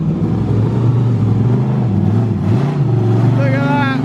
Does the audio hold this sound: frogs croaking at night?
no